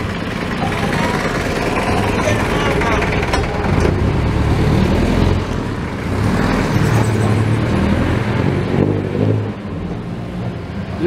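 Loud, steady vehicle noise from a jeepney ride through road traffic in Cavite: a continuous engine rumble with idling and revving, passing traffic around it, and voices talking throughout.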